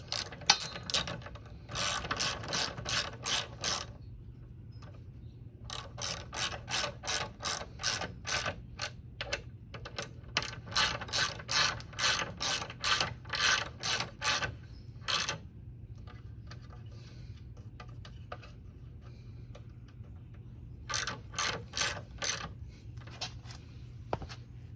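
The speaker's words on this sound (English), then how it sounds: "Just tighten up the brake caliper" Repeated bursts of ratcheting clicks from a hand wrench tightening the brake caliper mounting on a Zero SR electric motorcycle front wheel, coming in rhythmic runs separated by pauses, close and fairly loud with no talking.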